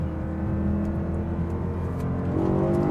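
A BMW E90 M3 engine pulls under light throttle from inside the cabin, a steady smooth drone with rising harmonic tones, continuous and fairly loud, with no talking.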